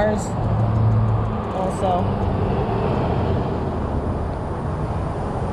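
Cars pass at a distance near a trail, a constant broad traffic hiss and rumble. Someone talks over it briefly.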